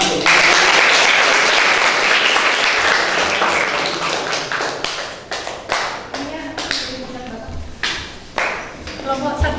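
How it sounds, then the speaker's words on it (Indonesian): A classroom of students bursts into loud, dense applause that thins into scattered sharper claps and taps, close and continuous throughout. "Tepuk tangan."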